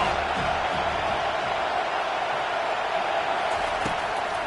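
A home crowd at a Florida vs UM college football game roars in a steady, loud wash of cheering that holds throughout.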